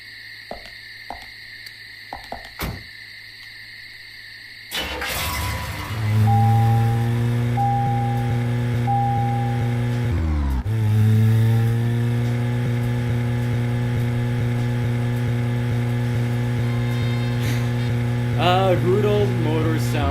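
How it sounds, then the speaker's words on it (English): A car engine in the video game Deadly Premonition turns over after a few faint clicks, then settles into a steady, droning idle hum that runs for the rest of the clip, with no talk. "Good old motor sound."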